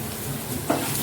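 Turmeric, chili, cumin and coriander powders being stirred in a pan for an aloo paratha filling, a soft continuous scraping with faint sizzle and one brief louder scrape near the end, no talking.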